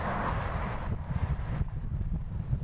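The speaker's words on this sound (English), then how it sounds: "Whoa, wind! That was a gust." Wind gusting past a cyclist's microphone at about 27 to 32 mph on a winding Pennine road in October, a loud, steady broadband rush with buffeting low rumble throughout.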